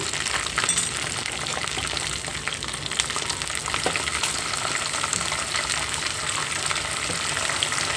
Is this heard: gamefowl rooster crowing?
no